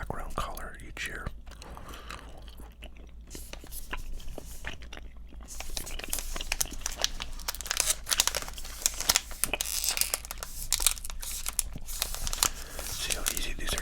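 Crinkly tearing and rustling of a baseball card wax pack wrapper, close and fairly quiet, growing busier and louder midway with repeated sharp rips and crackles.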